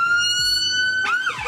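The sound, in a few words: siren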